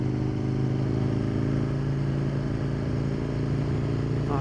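An Aprilia motorcycle engine runs at a steady, loud idle close by, a continuous low drone with mechanical clatter and no talking.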